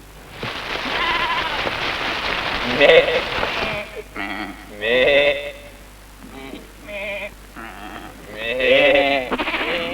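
Goats in the Sahara Desert along a 1972 expedition route toward Timbuktu give a string of wavering bleats, several overlapping and fairly loud, with short gaps between the calls.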